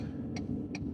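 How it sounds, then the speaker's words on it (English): Two crisp clicks about 0.4 seconds apart over a steady low engine rumble, the hazard flashers ticking inside a moving car following a tractor. "You can hear the emergency flashers going right now."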